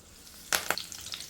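Mustard seeds and curry leaves hitting hot oil in a pan, giving a soft sizzle with a few sharp crackling pops close by and no voices.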